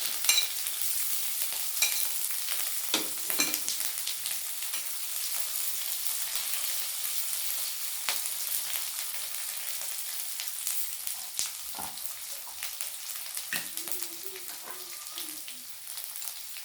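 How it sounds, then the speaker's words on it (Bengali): Grated ginger and chopped green chilli frying with aubergine in a pan, a soft continuous sizzle broken by occasional spatula scrapes and taps, close and fairly quiet, with no talking. "কিছুটা আদা গ্রেট করে রেখেছিলাম 1 ইঞ্চির মতো, এই আদাটা দিয়ে দিচ্ছি। আর দেবো একটু কুচানো লঙ্কা।"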